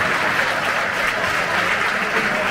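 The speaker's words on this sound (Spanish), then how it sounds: "Federico, un aplauso para él" An audience at a concert in Cieza applauds in a steady, dense burst of clapping that fills the whole moment without a break.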